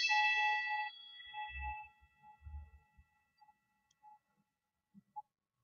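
A bell is struck once, ringing out with a bright metallic tone that slowly decays, followed by a few faint low knocks and taps in an otherwise quiet space.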